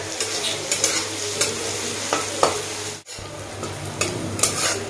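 Onions fry in a pan with a steady, close sizzle, broken by scraping stirs and light clinks of a spoon against the pan, and one brief pause midway.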